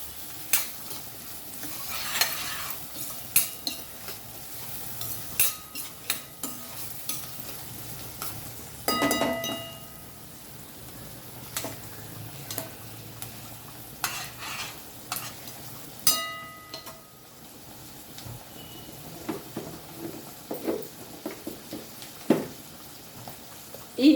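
Chopped onions go into hot oil for a small-fish curry, with a soft sizzle under intermittent stirring scrapes and clinks from a utensil against the pan, fairly close and with no speech.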